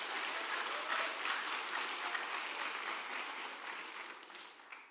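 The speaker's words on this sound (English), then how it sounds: "Round of applause." Audience applause at a stewardship conference talk, a dense steady clapping from a crowd that holds for several seconds and then tapers off.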